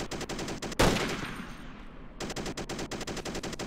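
Steady machine-gun fire in the video game ARMA, rapid evenly spaced shots that pause briefly after a loud close blast with a long echoing tail, then resume in a continuous rhythmic stream.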